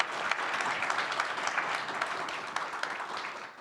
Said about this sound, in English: How about a big round of applause for our panel here?